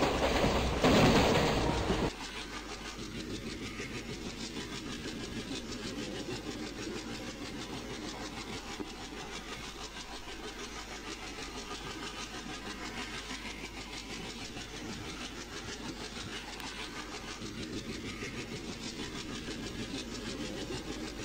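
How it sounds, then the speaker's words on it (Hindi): A train locomotive throttles up to gain speed, a steady heavy engine drone and rail rumble heard from on board, with a louder burst of noise in the opening seconds. "यहाँ पर हमारे लोकोमोटिव ने थोड़ी सी अपना थ्रॉटल इंक्रीज किया है ताकि हम अपनी थोड़ी स्पीड बढ़ा सकें।"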